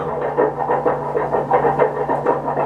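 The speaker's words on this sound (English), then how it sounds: "what you hear is this gourd that I have my pencil on right now" A lolo, a seed-filled gourd with a membrane, is played with a pencil, giving a soft, buzzing, throbbing rattle in an uneven pulsing rhythm, close and fairly loud, with no talking.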